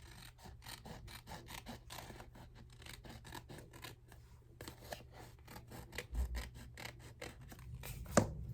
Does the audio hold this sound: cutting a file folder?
yes